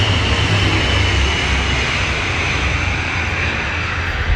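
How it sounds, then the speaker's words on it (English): A jet aircraft passes overhead at a racetrack on a track day, a loud, broad, steady roar that fills the whole stretch and eases slightly toward the end, with no voices. "Sorry, jet going overhead"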